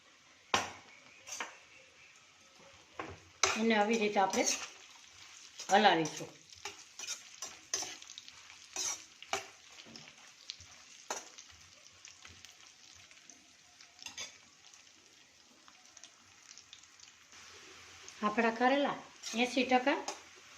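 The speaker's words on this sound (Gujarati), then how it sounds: "હવે આપણે એમાં કારેલા નાખીશું એને આપણે સેલો ફ્રાય કરી લઈએ" Bitter gourd shallow frying in hot oil, a steady crackle with bursts of sizzling and stirring, while a person speaks intermittently over it.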